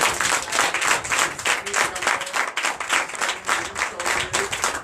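A church congregation claps continuously and enthusiastically during a Sunday worship service in Benin, a dense wash of applause filling the room without pause.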